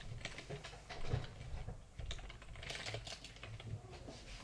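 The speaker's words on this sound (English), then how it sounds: "you can type your text here" Fingers type on a computer keyboard in a fast, uneven patter of small clicks and taps, close and quiet, with a brief pause partway through.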